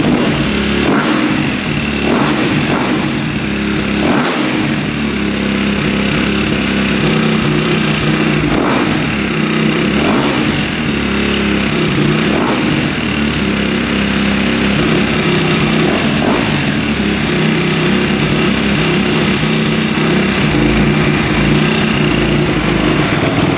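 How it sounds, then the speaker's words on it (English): Dirt bike engine running loud and steady throughout, with repeated sharp revs rising over a rough idle that is slow to settle back down. "Idle takes a sec to come back down."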